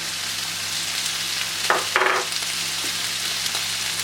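Green chilies and ginger garlic paste frying in a hot pan for samosa filling, a steady close sizzle with a couple of brief louder crackles as the paste is added, no talk.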